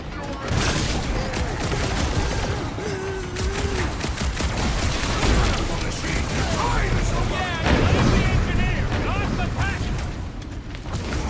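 Gunfire in the Guardians of the Galaxy video game, a dense and continuous barrage of shots and blasts forming a loud battle din, with characters' voices calling out over the chaos.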